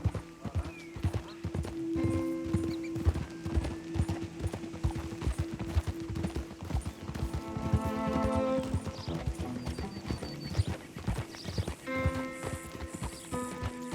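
Horse hooves clip-clop steadily in Red Dead Redemption 2, a continuous close trotting rhythm over game music tones, with a horse whinny partway through.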